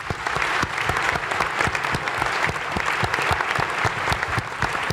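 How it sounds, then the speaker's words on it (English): Sustained applause from a seated breakfast audience at a chamber panel event, dense steady clapping throughout, fairly loud and even with no pause. "One more big round of applause."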